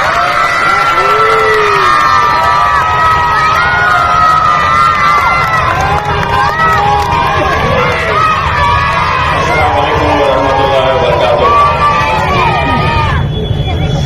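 A large audience at a public event applauding and cheering loudly for an arriving guest, with whoops and shouted voices over a dense roar of clapping that continues steadily for many seconds before easing near the end.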